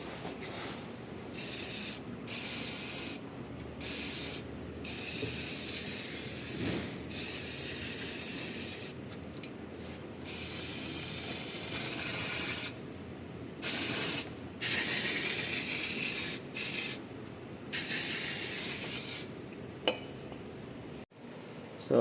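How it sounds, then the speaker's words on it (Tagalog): Short bursts of aerosol spray hiss loudly during an oil change on a Ford Fiesta, repeated on-off blasts of several seconds each separated by brief quiet gaps. "Spray na natin."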